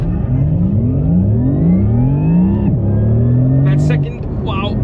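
A Porsche Taycan GTS electric car launching hard under launch control, its rising electric motor whine climbing steeply, dropping abruptly at the two-speed gearbox shift, then climbing again, loud and close, with a brief exclamation near the end.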